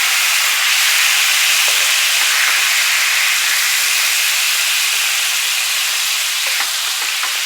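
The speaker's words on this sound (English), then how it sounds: "I'm going to go ahead and pour some stock in here" Stock poured into a hot pan to deglaze it while cooking halibut with vegetable hash: a loud, continuous hiss and sizzle that holds steady, with faint scraping ticks near the end.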